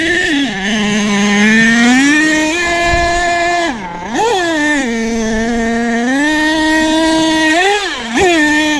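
The small engine of an HPI Savage RC car whines loudly and continuously on a BMX track, its pitch dipping and climbing as it slows and speeds up.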